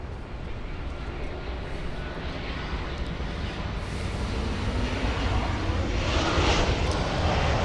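Airplane at LAX airport lining up on the runway, a steady distant jet engine roar that slowly swells louder, heard alone without talk.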